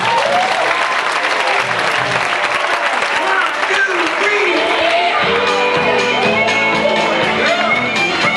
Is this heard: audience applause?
yes